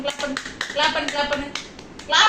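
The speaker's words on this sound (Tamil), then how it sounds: "அப்படியேவும் பாப்பா கையை தட்டு" A small child claps its hands in a quick run of soft, uneven claps, while an adult talks to the child over the clapping.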